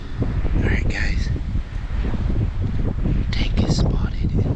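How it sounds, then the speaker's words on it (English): Strong gusty wind buffets the microphone in open Arizona country during an archery mule deer hunt, a constant low roar with brief rustling, while voices murmur under it. "it's super windy"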